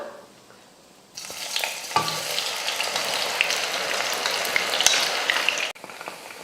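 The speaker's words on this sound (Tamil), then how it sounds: "சோயா ஊற வச்சு நல்லா ஊறிடுச்சு பாருங்கள் இப்போ எண்ணெயும் நல்லா காஞ்சிருச்சு பொறிச்சு எடுத்துக்கலாம்" Soaked soya chunks dropped into hot oil for deep frying burst into a loud, dense, continuous bubbling sizzle after a second of near silence, then cut off abruptly near the end, with no talking.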